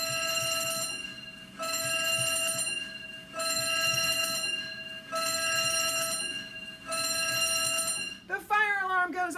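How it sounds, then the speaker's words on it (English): A fire station alarm in a firehouse rings in five long bursts separated by short gaps, loud and steady with a harsh bell-like tone, before a voice cuts in at the end. "The fire alarm goes off."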